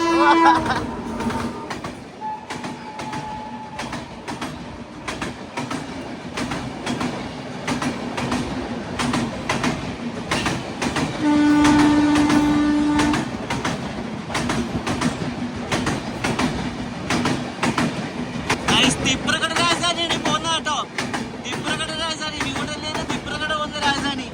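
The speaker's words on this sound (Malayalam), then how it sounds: "ഈ പോകുന്നത് ഗോൾഡൻ ടെമ്പിൾ മെയിലാണ്" The Golden Temple Mail passing close, a continuous heavy rumble and rhythmic clickety-clack of wagons with a horn blast partway through and sharper wheel noise toward the end.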